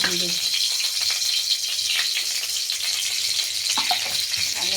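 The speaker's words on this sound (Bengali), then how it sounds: "জিরে ফোড়ন দিলাম" Cumin seeds temper in hot oil for a Bengali jute-leaf curry, giving a continuous crackling sizzle that runs throughout under a faint voice.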